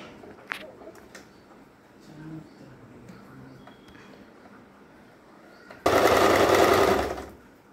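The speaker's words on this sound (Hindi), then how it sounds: "जो आधा इंच का मार्जिन था उसी हिसाब से हम इस पर सिलाई लगाएंगे" A sewing machine stitching a cushion cover runs in one loud, close burst of about two seconds near the end. Before it comes quieter handling sounds and faint rustling.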